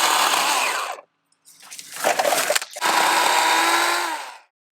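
A chainsaw with a bent blade cuts small trees outdoors in three loud close bursts, each revving up and dropping off with short pauses between.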